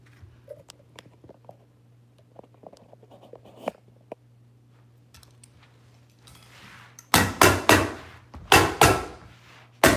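A staple gun fastens pieces of carpet padding together in a bedroom, firing a quick run of about five loud, sharp snaps near the end after quiet handling rustles over a low hum.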